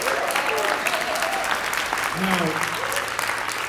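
Audience applause greets a guest trombonist at a university jazz concert, a steady wash of clapping filling the room while a voice speaks briefly over it.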